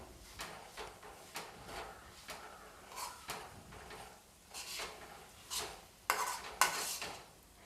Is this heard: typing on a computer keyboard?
no